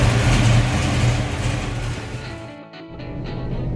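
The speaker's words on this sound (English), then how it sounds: "Here we have a 1970 Dodge Dart Swinger going for a rip." A 1970 Dodge Dart Swinger with a 360 V8 stroked to 408 and a Holley carburetor, its engine rumbling low and loud, briefly dropping off before picking up again.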